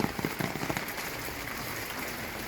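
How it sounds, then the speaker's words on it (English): Rain falls steadily on an outdoor cooking spot, a dense even hiss with a few louder patters at the start, no talking. "Look at the rain. It's falling."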